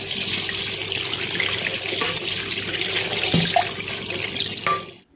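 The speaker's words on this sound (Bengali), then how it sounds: "এবার ঠান্ডা জল দিয়ে আমি একটু ওটা ধুয়ে রাখছি" Cold tap water runs loudly and steadily into a sink over boiled macaroni being rinsed, then cuts off abruptly at the end.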